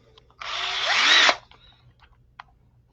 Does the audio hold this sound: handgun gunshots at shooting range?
no